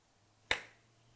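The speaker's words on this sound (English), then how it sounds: "I'm just going to do a clap" One sharp hand clap close to the microphone, a single crisp snap with a brief decaying tail, made to sync a camera with desktop audio, alone against a quiet room hum.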